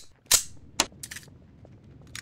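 Gunshots in Garry's Mod crack out as a few sharp, separate pops, two loud ones followed by a quicker pair and a faint final shot against a quiet background.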